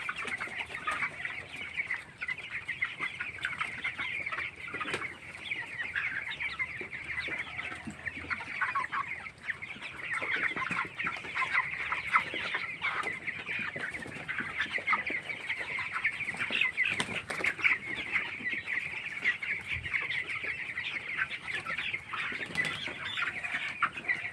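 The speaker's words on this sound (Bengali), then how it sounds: "আজকে 17 দিন বয়স ব্রয়লার মুরগি।" 17-day-old broiler chickens in a poultry shed, a constant chorus of soft clucks and peeping from many birds with scattered wing flaps, steady and fairly close throughout.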